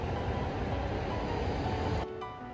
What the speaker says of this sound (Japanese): この特急湘南が出発して、でその後大宮行きの埼京線が出発を待っているという